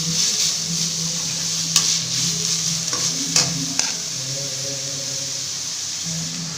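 Onions frying in oil in a kadai give a steady, close sizzle, with a spoon stirring and scraping against the pan in a few sharp knocks.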